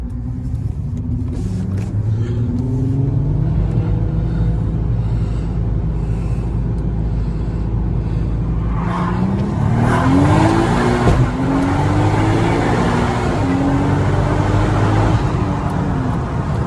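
A 410+ BHP turbocharged VR6 in a Mk5 Golf R32 accelerates hard in a short burst, engine note rising steadily and loudly with a gear change partway through, heard from inside the car over road noise.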